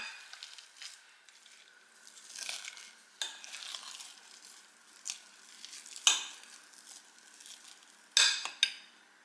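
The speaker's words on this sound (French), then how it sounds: "je vais venir écraser le tout au presse-purée" Soft squishing and mashing of a starchy mixture with cornflour, pressed with a potato masher in a bowl, with irregular scraping bursts and a few sharper clinks of metal against the bowl, close and fairly quiet.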